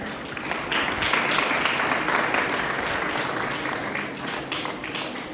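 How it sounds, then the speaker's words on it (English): An audience at an Independence Day celebration in India applauds after a performance, a dense, even wash of many hands clapping that carries steadily from start to finish. "Please give a huge round of applause for them."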